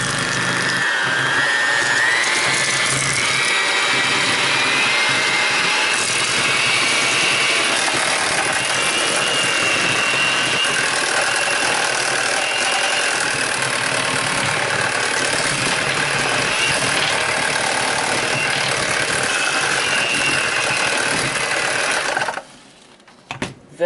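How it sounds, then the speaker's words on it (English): Electric hand mixer whirring continuously through cheesecake filling with sugar mixture, a loud, steady motor drone that runs for a long stretch before cutting off near the end, with no talking. "This says to do it with a hand mixer"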